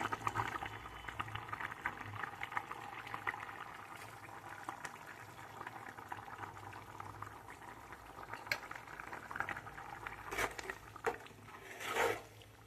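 Chicken curry with coriander simmering in a pot, a steady close bubbling and soft sizzle running throughout, with a few louder pops and stirring scrapes near the end.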